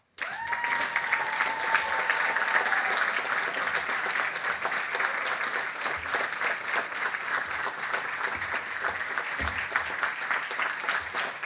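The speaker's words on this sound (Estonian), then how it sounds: "Ma palun teil tõusta püsti ja teha üks suur aplaus meie kõigile aineõpetajatele." Sustained audience applause fills a school ceremony for ninth-grade students, a dense steady wash of many hands clapping that starts abruptly and continues loud throughout, with a brief tone ringing near the start.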